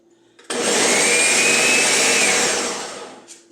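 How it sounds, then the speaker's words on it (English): A blender switches on abruptly, whirring loudly and steadily for about two seconds before winding down as it stops. "you can start running the blender"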